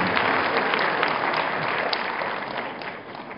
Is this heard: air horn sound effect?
no